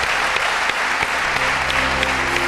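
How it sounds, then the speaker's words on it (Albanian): Dense, steady applause from a studio audience on a television show fills the clip from start to finish, loud and close with no break. "një duartrokitje e madhe për ju"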